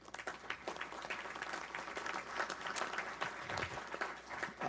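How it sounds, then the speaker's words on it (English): Steady applause fills a committee hearing room during a congressional appropriations markup, a fairly quiet, even patter of many hands lasting throughout with no break. "Please do give them a round of applause."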